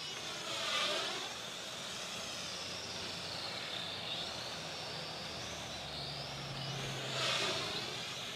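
MJX X601H hexacopter drone in flight, a steady high-pitched rotor whine that rises and swells twice as it passes closer.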